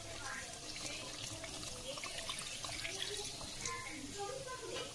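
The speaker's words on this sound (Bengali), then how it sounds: "জল দিয়ে দেবো।" Water poured into a pan while cooking snakehead fish: a steady, continuous stream of splashing liquid that stays moderately loud throughout.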